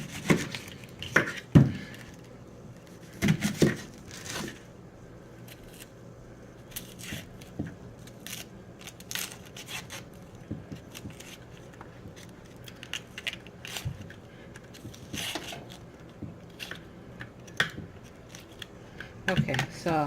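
An onion is sliced with a knife on a cutting board in a home kitchen, giving irregular sharp chopping taps and clicks spread through the clip, some louder, with light handling noise between cuts.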